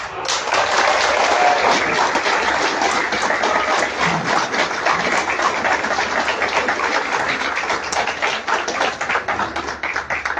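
Sustained applause from a crowd at a press conference at the Universidad de San Carlos, dense, steady clapping that fills the space for about ten seconds before thinning slightly.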